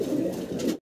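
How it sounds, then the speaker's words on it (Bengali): A chequered racing pigeon gives a single short, throaty coo, close and clear. "চকো রেসার কবুতর"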